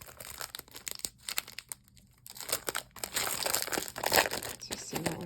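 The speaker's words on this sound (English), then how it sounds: "I'm sure the plastic is crackling." Plastic packaging of a Spellbinders monthly card-making kit crackles and crinkles up close as it is handled, in irregular bursts that grow busier and louder toward the end.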